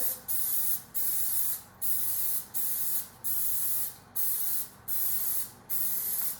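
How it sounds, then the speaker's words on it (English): Cooking spray hisses in about nine quick, evenly spaced bursts onto muffin tins, each a short pressurized spritz close by. "I'm going to spray them real good"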